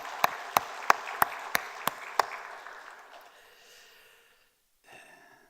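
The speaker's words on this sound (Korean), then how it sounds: "박수로 축복하겠습니다." Applause at a church worship service, heard as seven sharp, evenly spaced claps that stop, then a lingering room echo fading to near silence, with a brief faint noise at the end.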